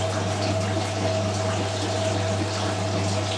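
A Miele W562 washing machine fills with water for its first rinse on a woollens cycle, a steady, close rush of inflowing water over a constant low motor or pump hum, with no talking.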